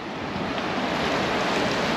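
Wind blowing steadily by the water near an airfield at sunset, a loud, unbroken broadband rush with no pauses.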